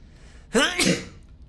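A single sharp sneeze from a person, close and loud, a quick gasping intake followed by a burst, over quiet background.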